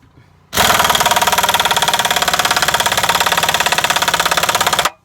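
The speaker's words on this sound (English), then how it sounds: "Let your air compressor build back up." A shop air compressor runs steadily while rebuilding pressure during a 1994 Ford F-250 ball joint installation, starting abruptly after a brief quiet lead-in and holding a loud, rapid pulsing chug before cutting off sharply near the end.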